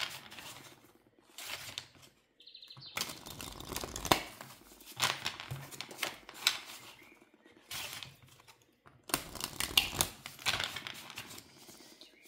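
Oracle cards being shuffled and drawn for a love reading: crisp papery riffles, slides and flicks in separate bursts, fairly close and soft, with no voice.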